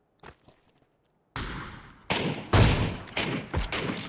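After a near-silent start with a few faint taps, loud bursts of rapid gunfire in PUBG erupt close by in several volleys.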